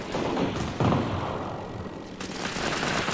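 Gunfire in the post-apocalyptic video game Fallout 76, a dense steady burst of rapid shots with a louder thump near the start, continuing without pause across the moment.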